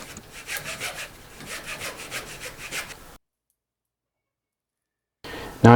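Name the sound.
hacksaw cutting through wood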